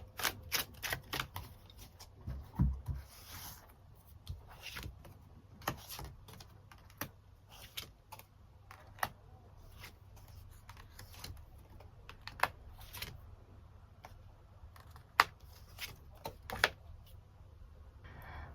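Tarot cards being shuffled and drawn, a string of soft, close taps, flicks and clicks at an irregular pace, quiet, with no talking.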